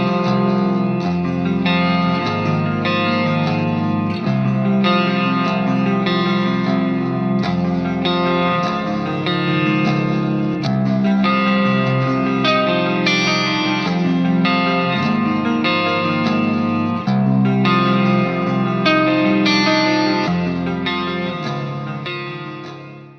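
Clean electric guitar through an H&K StompMan pedalboard amp plays sustained chords and melodic notes continuously, with lush reverb and a touch of chorus shimmer, steady and fairly loud throughout.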